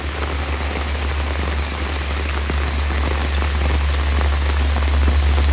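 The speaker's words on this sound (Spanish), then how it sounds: "así ha estado lloviendo acá" Heavy rain from a strong storm pours steadily onto surfaces, a dense, loud hiss with a low drumming rumble underneath, continuous and without voices.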